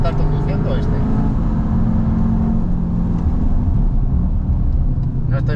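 Cupra Leon 2.0 TSI engine accelerating, a loud, steady low-pitched drone with a rising harmonic whine, heard from inside the car with someone talking over it.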